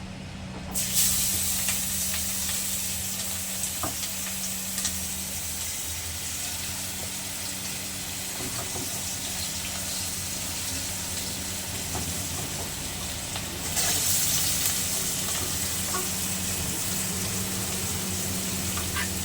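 Onions frying in a pan for a chicken stew give off a steady, close hiss of sizzling that runs throughout, swelling louder near the end as the frying intensifies, with no voices.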